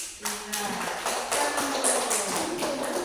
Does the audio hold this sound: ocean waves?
no